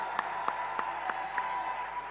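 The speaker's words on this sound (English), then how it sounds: "A round of applause." Audience applause at a national launch ceremony for the Ghana cedi's 60th anniversary: sparse, distinct claps about once every third of a second over a steady hum, moderately quiet and some distance off.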